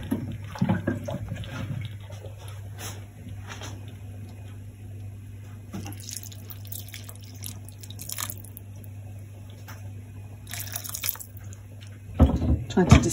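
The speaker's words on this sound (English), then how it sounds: "We'll add the stock now." Stock poured into a pot of lentils gives soft trickling and splashing against a steady low hum, with light clinks of a utensil and a louder burst of liquid near the end.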